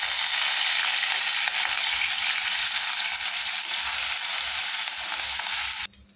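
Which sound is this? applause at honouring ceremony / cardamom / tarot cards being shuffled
cardamom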